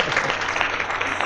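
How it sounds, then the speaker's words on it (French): Brief applause from an audience at a word competition final, a steady wash of clapping heard alone. "Des applaudissements s'il vous plaît pour le doyen Gueye."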